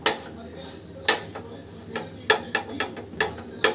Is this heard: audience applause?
no